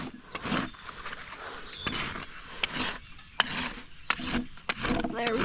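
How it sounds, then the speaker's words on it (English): A farrier's rasp filing a horse's hoof during a maintenance trim, rough scraping strokes in an uneven rhythm with brief louder scrapes, close up, with faint talk underneath. "I've got my rasp at an angle."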